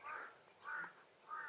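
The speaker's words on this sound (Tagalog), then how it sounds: "Grabe yung uwak, Brad." A crow caws three times outdoors in a quiet rural spot, harsh calls spaced evenly about half a second apart, faint and distant with light background hiss.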